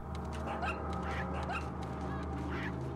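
Honking, goose-like clucks from a chicken in the Resident Evil 4 video game, several short calls repeated over a constant low game hum.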